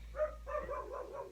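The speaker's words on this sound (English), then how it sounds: "I'm gonna go get the dog because they've been barking" A dog gives a run of soft, fairly faint barks and yips in close succession over a low indoor hum, with no one speaking.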